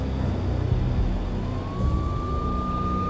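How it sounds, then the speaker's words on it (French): Police sirens in the video game Max Payne rise and wail as they draw nearer, a thin rising tone over rumbling city and game ambience. "J'entendais le hurlement des sirènes se rapprocher."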